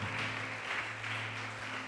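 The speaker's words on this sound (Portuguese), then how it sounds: "Pode aplaudir e glorificar o Senhor Jesus" A church congregation applauds in a steady, moderately loud wash of clapping, with a low sustained musical tone humming beneath it.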